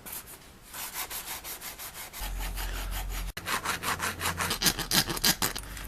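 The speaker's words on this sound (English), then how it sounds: "So I'm just going to keep on cutting and sanding and get this thing detabbed." Steady abrasive rubbing and grinding of sanding on a steel motorcycle frame, close and continuous, with a low motor hum joining partway through and rhythmic strokes throughout.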